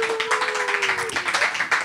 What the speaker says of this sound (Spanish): recibamos con un fuerte aplauso a los participantes